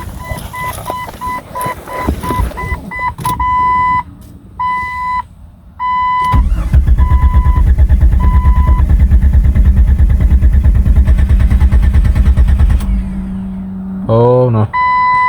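A Ford Ranger truck running only headers and a downpipe makes a cold start. Electronic chime beeps come first, then the engine catches and runs loud and raw for several seconds before cutting off with a final sputter.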